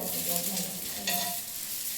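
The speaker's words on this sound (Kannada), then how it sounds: "ಆಮ್ಲೆಟು ಆಗುತ್ತೆ." Steady, fairly quiet sizzling of an omelette frying in a hot pan, a continuous crackling hiss with a faint scrape of stirring.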